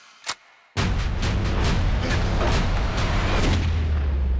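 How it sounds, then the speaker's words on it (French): A brief pop, then a sudden loud burst of rapid, repeated gunshots continuing without pause, booming and dense. "Les officiers ont entendu des coups de feu."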